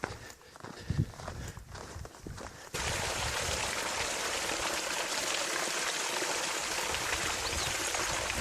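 Footsteps on a trail in Oregon give way to the steady, loud rush of cold spring water pouring out of the mountainside at Sheep Camp Spring, close by and continuous with no talking.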